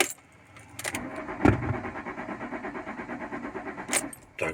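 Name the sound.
key turned trying to start car engine, blocked by immobilizer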